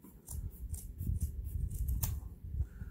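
Sharp scissors snip through fabric close to a stitch line while sewing a purse, a rapid series of crisp, close cutting sounds repeating rhythmically with no talking.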